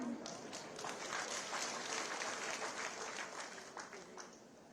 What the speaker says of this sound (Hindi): इसलिए मैंने कहा पुरुषों तुम भी ताली बजाओ भाई।